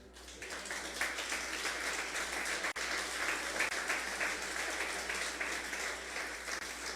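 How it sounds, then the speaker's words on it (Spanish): A church congregation applauds steadily and continuously throughout, a dense even wash of clapping from many people in a sanctuary, with no speech over it. "denle un aplauso al Señor"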